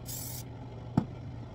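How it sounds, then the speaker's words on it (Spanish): Cooking oil sprayed from an aerosol can over vegetables for breakfast: one short, steady hiss that stops abruptly, followed a moment later by a single soft tap, all close and fairly quiet. "le voy a rociar a los vegetales encima un poquito de aceite en aerosol"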